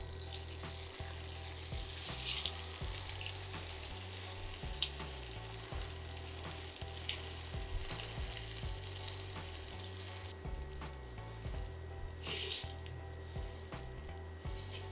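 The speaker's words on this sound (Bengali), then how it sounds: "মিডিয়াম আঁচে এটাকে ভেজে নিতে হবে।" Tomato paratha frying in a pan over medium heat, with a steady soft sizzle and occasional light clicks and scrapes of turning, alone.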